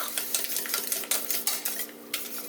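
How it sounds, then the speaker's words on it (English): Milk stirred into homemade eggnog in a bowl or pot, a utensil scraping and clinking in quick irregular strokes, close and fairly quiet, with no voices. "Now I need to stir in 4 cups of milk."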